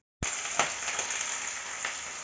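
Vegetables hitting hot oil with black cumin in a kadai, bursting into a sudden loud, continuous hiss that holds steady with a few sharper crackles, close by.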